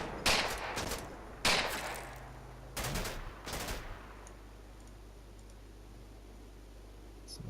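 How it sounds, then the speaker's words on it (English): Gunfire in the WWII tactics game Combat Mission: Battle for Normandy, with four short bursts of distant rifle and machine-gun shots spaced over the first few seconds, followed by quiet ambient hiss. "Some more shooting going on."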